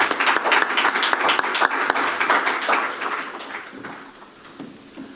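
Audience applauding panelists at a morning news media association session: dense clapping at close range that fades gradually toward the end, with faint talk beneath.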